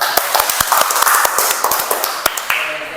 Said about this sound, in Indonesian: Tepuk tangan buat Ardiansa, ayo